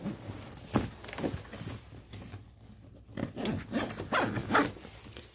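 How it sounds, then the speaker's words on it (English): A horn case is zipped shut along both sides, several quick rasping zipper pulls with short pauses, close and quiet with some handling rustle. "Zip it up, both sides."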